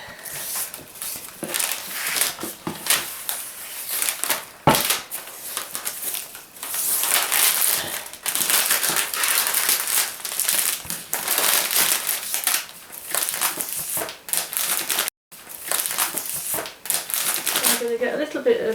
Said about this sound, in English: get some tie tape and put it around there